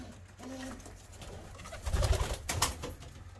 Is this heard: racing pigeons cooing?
yes